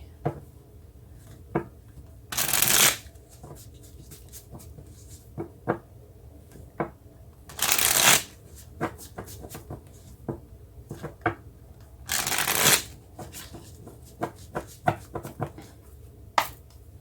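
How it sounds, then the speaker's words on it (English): Three bursts of rapid card riffling, close and crisp, separated by scattered light taps and handling clicks on a table. "So maybe I can shuffle here without dropping the cards on the floor."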